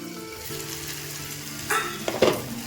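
Spice paste sizzling in oil in a pan while being stirred, a steady close frying hiss, then two or three louder scraping stirs near the end.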